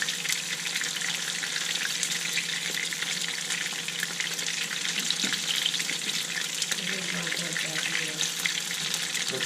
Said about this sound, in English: I'm going to let those sit there and sizzle for a few minutes